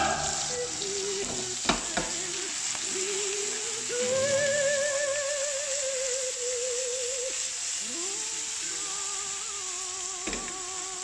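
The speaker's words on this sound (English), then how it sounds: "I've just thrown the onions in the pan. I'll give them a few minutes." Onions fry in a pan with potatoes and mushrooms, a steady close sizzle with a few sharp clacks of stirring and faint squeaks rising over the crackle.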